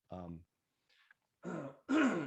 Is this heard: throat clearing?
yes